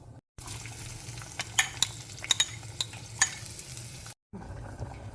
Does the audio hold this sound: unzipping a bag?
no